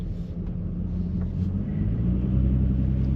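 2014 Nissan Frontier pickup truck on the move, a low steady engine rumble with road noise, moderately loud and swelling slightly toward the end, no voices.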